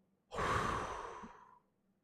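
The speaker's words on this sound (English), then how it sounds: "Inhale, right? 4, 3, 2, 1. Exhale, everyone." Several people in an energy healing session let out a deep breath together, one broad, airy exhale that swells quickly and fades over about a second, close and moderately loud, with no talking.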